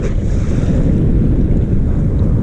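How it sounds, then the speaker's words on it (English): Steady, loud wind roaring and buffeting the microphone at a Lake Erie bass fishing tournament out of Buffalo, with a low continuous rumble and no voices throughout. "Oh yes, it was very windy."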